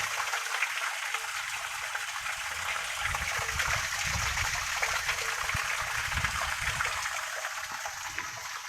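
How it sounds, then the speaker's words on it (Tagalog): Water from a pump-fed homemade wishing well fountain spills over a bucket with a quiet, continuous trickle and splash, faint and steady throughout. "umaawas ng tubig sa balde,"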